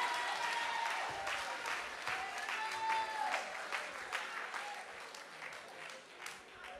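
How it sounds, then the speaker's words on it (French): Church congregation applauding during a sermon, a steady wash of clapping with scattered voices and a preacher's raised speech over it, moderately loud and sustained throughout. "Oh, applaudissez cette parole."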